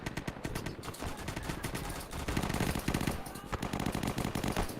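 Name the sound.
powerful rifle firing in video game Easy Red II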